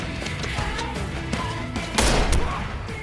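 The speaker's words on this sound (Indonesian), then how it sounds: "John sudah menunggu dan menembakkan pistol ke Losep." A sharp, loud pistol gunshot bursts out partway through, set against a busy, tense film soundtrack with music and rumble beneath.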